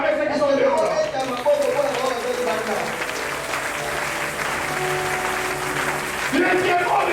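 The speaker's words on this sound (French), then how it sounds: "Est-ce qu'on peut acclamer ceux qui sont dehors?" A congregation at a church service applauds and cheers together, continuous clapping and voices filling the hall, with speech running over the crowd noise throughout.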